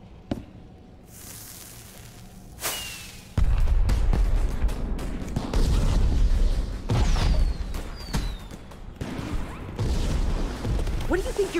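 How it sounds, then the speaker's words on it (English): Fireworks launch in Minecraft Story Mode: a loud sustained whooshing roar kicks in and keeps rushing, with sharp bursts and rising whistles on top and voices talking over it. "Wait, the fireworks? That's how we do it?"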